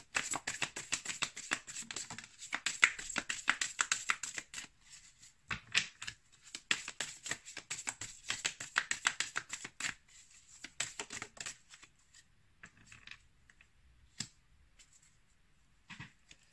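Tarot cards are handled, shuffled and drawn up close, a busy run of crisp flicks and riffles that thins out into a few sparse taps toward the end.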